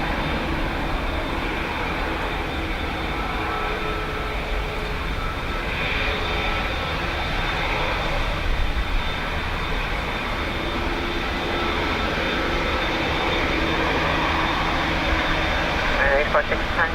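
A jet airliner rolls for takeoff on runway 10 right at Dublin Airport in windy, wet weather, a steady broadband engine roar holding loud and continuous throughout, with faint radio chatter underneath.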